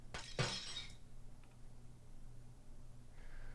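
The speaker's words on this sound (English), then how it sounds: "I want it to sound like a generic break sound" Generic glass-break effect built in Audacity: a sharp, bright shatter burst at the start with scattered tinkling fragments, then a quiet tail with faint clinks.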